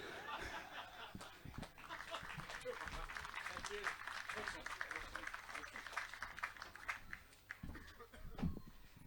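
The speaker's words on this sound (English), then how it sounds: "Keep that applause going for Howard James" Audience applause for a poet at a bush music festival's poets breakfast, a steady wash of clapping running throughout with scattered laughter and voices mixed in.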